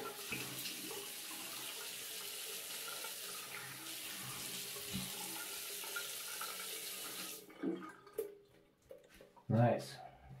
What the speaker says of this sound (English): rinse it, step aside your razor and rinse the face